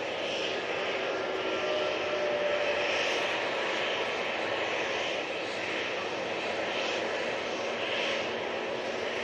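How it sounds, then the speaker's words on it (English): Turkish Airlines Airbus A321neo with Pratt & Whitney engines roars past at an airport, a loud continuous jet rumble with a rising and falling high whine that stays strong throughout. "Should be this Turkish Airlines A321neo. Got the Pratt & Whitney plants on them."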